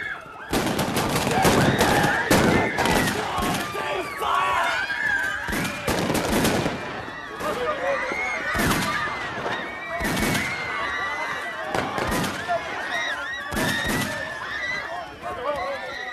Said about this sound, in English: They're shooting people!